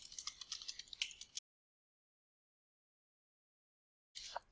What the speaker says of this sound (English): I'll type in some details.